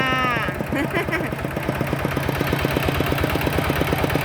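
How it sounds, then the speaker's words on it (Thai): A farm tractor's engine chugs steadily at close range in the evening countryside, its low rhythmic pulsing continuous throughout, with a voice talking briefly at the start. "เราก็จะเดินทางกลับบ้านด้วย รถไถคันนี้นะคะ"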